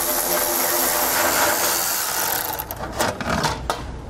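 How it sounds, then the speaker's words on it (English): A power tool with a 10mm socket whirs steadily while removing heat shield bolts on a 2018 Mercedes-Benz, a close, dense buzzing that breaks into uneven bursts and clicks toward the end. "we'll grab a 10mm socket and pull both those out."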